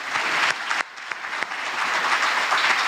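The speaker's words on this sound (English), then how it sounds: "Another round of applause, please." An audience applauds steadily at a prime minister's lecture event for an independence anniversary, dense clapping filling the clip with a brief dip near the start, no voices over it.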